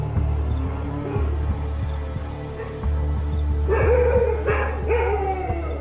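Village dogs at night in rural India give scattered barks and drawn-out howls, moderately distant, over a constant low hum and insect chirps, with the howling rising toward the end.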